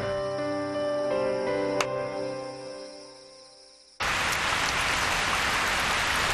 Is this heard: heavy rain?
yes